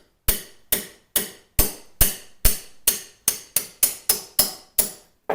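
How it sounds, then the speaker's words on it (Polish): Hammer tapping the barrel out of a CZ75 Kadet .22LR conversion, about fifteen sharp metallic knocks at a steady, slightly quickening pace, close and loud with no voices. "Biorę sobie młotek."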